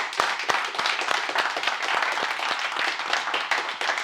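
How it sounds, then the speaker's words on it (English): A small group claps for the seminar teacher at a blue belt promotion, with distinct, close individual claps forming an uneven rhythm that holds steady for about four seconds with no voices. "let's give a big round of applause for Ryan and teaching this awesome seminar."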